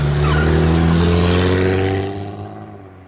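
A BMW car driving off fast, a loud close engine drone with a strong steady tone that fades away over the final second.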